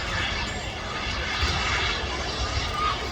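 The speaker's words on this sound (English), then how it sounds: "Here's an Airbus A380 200 neo, EasyJet flight" An EasyJet Airbus neo airliner arriving from Geneva rolls off the runway onto a rapid exit taxiway, its jet engines giving a steady, broad roar at close range.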